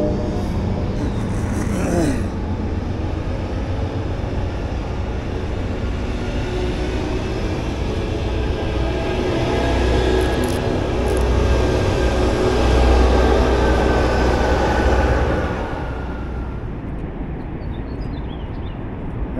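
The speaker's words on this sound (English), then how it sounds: "we do have a train passing by." A train rumbles across a bridge in Pittsburgh amid city traffic, a sustained low roar that swells toward the middle, then fades as it moves off.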